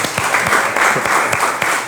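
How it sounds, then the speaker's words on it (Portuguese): Studio audience on a talk show applauding after an on-air love declaration, a steady dense round of clapping at close range, fairly loud and unbroken. "Declaração, pode aplaudir."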